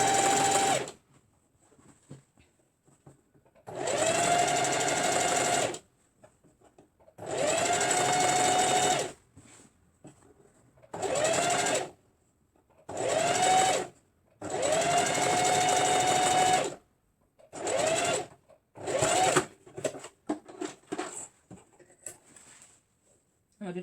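A sewing machine back stitches short pants in a series of loud, close bursts of fast, even stitching, each lasting a second or two and separated by quiet pauses.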